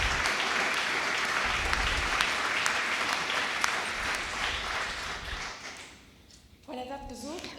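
Applause for stroke survivors at a World Stroke Day event, a long steady round of clapping from an audience that fades out, followed by a voice starting to speak.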